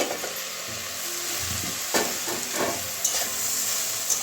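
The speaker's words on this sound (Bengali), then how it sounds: "একটু নাড়িয়ে দিচ্ছি এবারে" Fried brinjal with tomato and onion crackles in a pan over medium heat, a steady bright sizzle with a few spatula scrapes and knocks as it is stirred.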